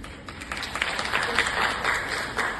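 An audience at IIT Gandhinagar breaks into dense, continuous applause, a steady wash of many hands clapping close by with a few voices mixed in.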